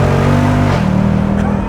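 Automatic Ford Mustang's exhaust blaring up close as the engine revs and accelerates, the pitch climbing briefly and then shifting as it changes gear, loud and continuous throughout.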